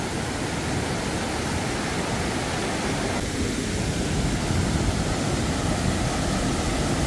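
A waterfall about two metres high pours into a rocky stream in Yumyeong valley, Gapyeong, a loud, steady rushing roar that never lets up, with no voices.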